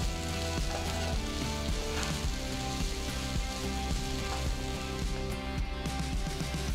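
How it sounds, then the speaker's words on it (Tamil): Tamarind with salt sautéing in a pan for chutney, a close, steady sizzle with faint stirring scrapes throughout and no voices. "நெக்ஸ்ட் கொஞ்சமாக புளி சேர்த்து வதக்குங்க."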